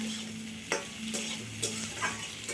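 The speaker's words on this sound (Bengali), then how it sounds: "পটল ভাজা রেডি হয়ে গেছে দেখুন লাল লাল হয়ে গেছে" Pointed gourd pieces frying in a pan, a quiet soft sizzle broken by a few sharp spatula scrapes and stirring clicks at intervals.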